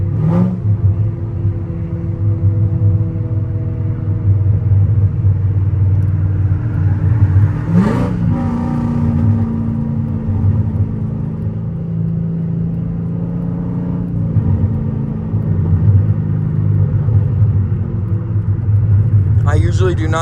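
A Chrysler 300C's engine drones steadily, then rises in a quick rev around a hard downshift before settling back to a low, close rumble inside the cabin.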